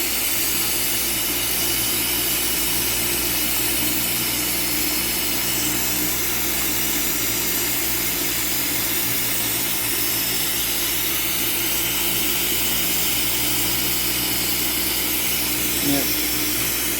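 A glassblowing torch roars steadily throughout as a flame heats glass being split and worked, a loud continuous broadband hiss with no break across the whole stretch.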